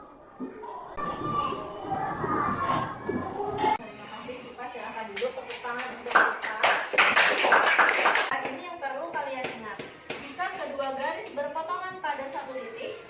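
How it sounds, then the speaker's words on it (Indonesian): Students clap for a classmate group in a junior high school maths lesson; the scattered applause mixes with children's chatter and voices, rising around the middle before fading back into talk. "Tepuk tangan untuk kelompok 3."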